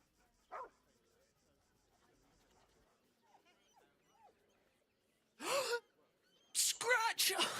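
A dog in the video game Baldur's Gate 3 gives a short yelp, then soft whimpers, followed by loud close barking and panting bursts near the end.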